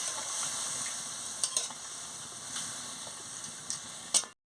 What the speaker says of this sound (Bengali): আমি ভালো করে এটাকে কষিয়ে নিচ্ছি